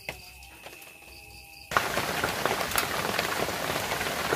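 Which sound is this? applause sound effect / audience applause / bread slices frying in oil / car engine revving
bread slices frying in oil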